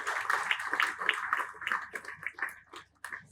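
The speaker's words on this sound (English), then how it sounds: "Round of applause for Mrs." An audience at an appreciation award ceremony claps for a few seconds, the dense patter of hands dipping slightly toward the end, with no speech over it.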